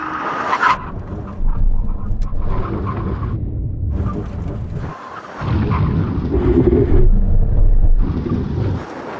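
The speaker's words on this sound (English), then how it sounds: "Now we're going for a brake test from 70 miles an hour. When we reach the line, full emergency stop." Supercars, a Ferrari 488 Pista Piloti, Lamborghini Aventador SV and Porsche 911 Turbo S, make full emergency stops from 70 mph on a test track, with loud engine and wind rush broken by sudden drops and surges of roaring noise.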